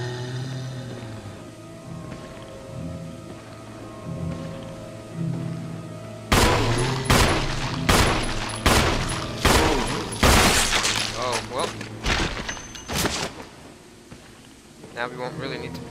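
Gunfire in the video game Resident Evil HD Remaster: a burst of loud, sharp shots cracks out in quick succession over a low droning game soundtrack, with a couple more blasts near the end.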